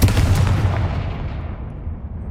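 A Confringo blasting spell in Hogwarts Legacy bursts as a loud, heavy explosion with a deep boom that fades away over about two seconds.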